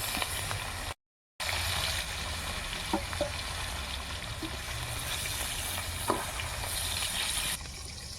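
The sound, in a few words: rohu fish frying in oil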